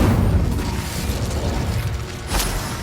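The Incendio fire spell cast in Hogwarts Legacy: a steady low whooshing roar of conjured flame, with a brighter crackling burst near the end, loud and close.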